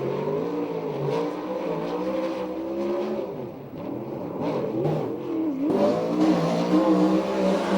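A USAC sprint car accelerates hard around the Seaside Park racetrack during a qualifying lap, its engine note loud and continuous, climbing and falling as it revs through the turns.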